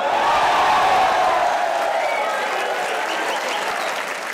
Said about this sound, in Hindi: आप लोग तालियां जरूर बजा लो